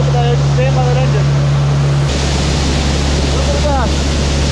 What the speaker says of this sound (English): it's nice to stand out here by this loud engine because it's a gas and it just emits heat